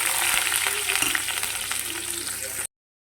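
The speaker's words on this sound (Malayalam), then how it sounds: "ജീരകം ഒന്ന് ഫ്രൈ ആയതിനു ശേഷം അരിഞ്ഞു വെച്ചിരിക്കുന്ന വെളുത്തുള്ളിയും പച്ചമുളകും കൂടെ നമുക്കിടാവേ" Chopped garlic and green chillies frying in hot oil with cumin seeds for dal fry, a loud, close, dense sizzle with light crackling that cuts off abruptly near the end.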